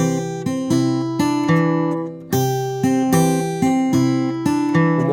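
Blues fingerpicked guitar, played without the alternating thumb bass, with ringing chords and melody notes struck in a steady, clean rhythm, close and alone.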